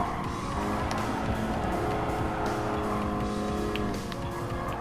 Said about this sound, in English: Gonna hit the brakes.